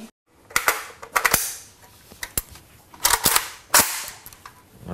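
Kalashnikov rifle trial shots at a 25-metre shooting range, a series of sharp, loud cracks spaced irregularly over a few seconds, with faint echoing tails between shots.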